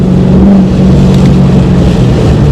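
A Chevy SS with a custom tune pulls hard through its gears, a loud, steady engine drone with a strong low rumble that holds for the whole stretch with no talk over it.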